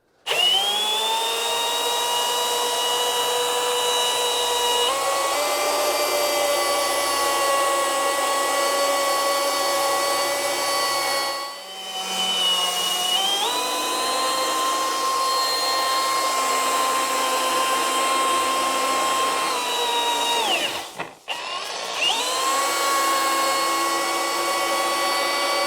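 An electric power sander smooths the concaves of a surfboard blank, a loud steady whine with two short pauses where it stops and restarts, running alone without talk.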